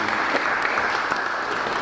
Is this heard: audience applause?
yes